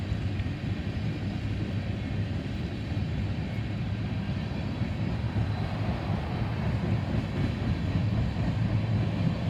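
A westbound BNSF unit ethanol freight train at Oak Harbor rolls past in a continuous loud low rumble, steady and close for the whole stretch.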